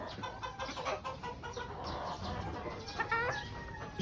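A female pure white Kelso hen with a straight comb clucks in short repeated calls, close by, over steady background farmyard noise.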